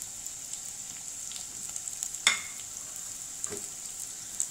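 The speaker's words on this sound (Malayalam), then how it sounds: "ഇനി നമുക്ക് ഇതിനകത്തേക്ക് ഇഞ്ചി അതുപോലെ തന്നെ വെളുത്തുള്ളി ഇട്ട് കൊടുക്കാം." Ginger and garlic frying in hot coconut oil for a Kerala fish curry, a faint steady sizzle with one sharp stir or clatter midway and a softer one later, no talking.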